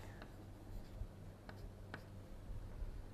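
Chalk or marker strokes on a lecture board, soft, faint scratches and taps that come in short bursts over a quiet room hum, with no speech.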